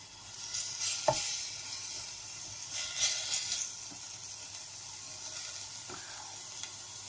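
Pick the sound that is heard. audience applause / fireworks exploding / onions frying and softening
onions frying and softening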